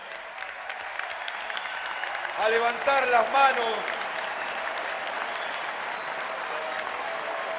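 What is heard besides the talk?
audience applause at political speech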